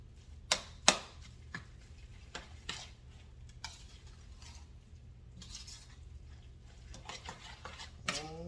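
Stirring a pear and apple smoothie, a utensil knocking and scraping against the container in irregular clinks with a few sharper taps, close and quiet over a low steady hum.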